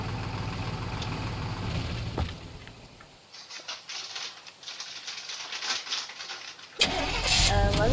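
In the video game Teardown, a vehicle engine rumbles and revs through a mix of patter and clatter, then cuts to a sharper burst at the end, moderately loud.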